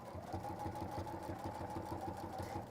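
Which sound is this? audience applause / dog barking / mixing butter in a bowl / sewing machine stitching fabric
sewing machine stitching fabric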